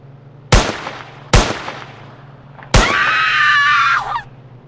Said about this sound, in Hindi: तो मैं इसको शूट कर देता हूँ